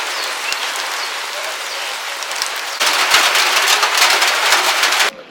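Unseasonable rain pouring down over a wheat field nearly ready for harvest, a steady broadband hiss that suddenly grows louder and denser near the middle, then drops off abruptly at the end.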